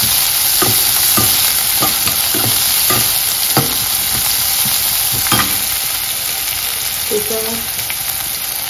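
Green garlic shoots frying in a pan, a steady bright sizzle running throughout with repeated clicks and scrapes of stirring, and a short spoken word near the start.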